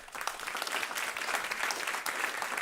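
Steady applause from an audience at a food security and climate event hosted by WNYC, dense clapping filling the whole stretch at an even, moderate level with no break.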